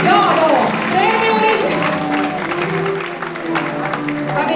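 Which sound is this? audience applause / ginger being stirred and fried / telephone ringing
audience applause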